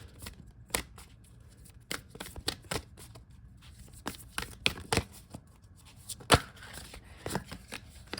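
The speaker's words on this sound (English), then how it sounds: "Let me go ahead and split these and then I'll shuffle." Tarot cards are shuffled and split by hand, with a series of sharp riffling snaps and soft flicks at an uneven pace, close and fairly quiet.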